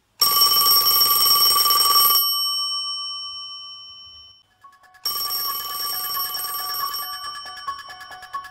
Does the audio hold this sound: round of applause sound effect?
no